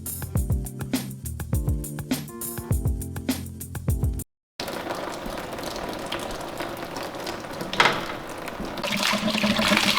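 Rusty brown water draining out in a workshop during a ute build, a steady, fairly loud splashing gush that runs continuously for several seconds, following a brief stretch of music and a short silent break.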